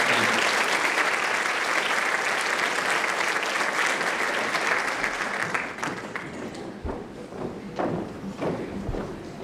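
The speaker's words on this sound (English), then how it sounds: "And give our Student Advisory Council one more round of applause." Audience at a high school honors night breaks into a long round of applause, loud and dense at first, then thinning into scattered claps and a few thumps toward the end.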